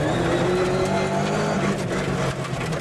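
A rally car at the 1995 Lurgan Park Rally drops down into first gear coming off a hairpin onto tarmac, its engine a loud, steady, close roar with faint tyre noise throughout.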